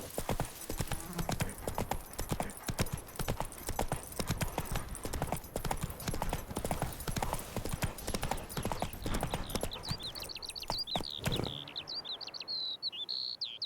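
Roach the horse trots in The Witcher 3, hooves clip-clopping in a rapid, continuous rhythm that sounds close and loud, with birds chirping in the background and then briefly heard alone as the hoofbeats stop.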